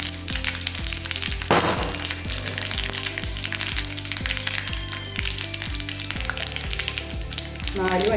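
Mustard and fenugreek seeds splutter and crackle in hot oil, a dense run of sharp pops that carries on over rhythmic background music with no one speaking.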